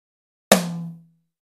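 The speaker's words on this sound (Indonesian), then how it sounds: "Pertama-tama ketuk tom 1" A single hit on the left rack tom of a real drum kit, a sharp attack with a short, resonant pitched ring that dies away within half a second, alone.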